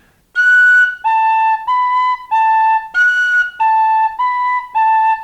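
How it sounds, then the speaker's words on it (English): An Irish tin whistle plays a run of clear, loud, sustained high notes in the upper octave, about eight tones in a steady rhythm, each separated by a brief break. "you're blowing in harder into the whistle to get that sound out."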